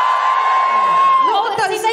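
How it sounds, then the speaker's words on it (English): Live audience at a comedy podcast taping in Christchurch, New Zealand, cheering and whooping together, a long sustained high whoop over the crowd noise before it breaks into scattered yells. "Give us a cheer if you haven't given birth"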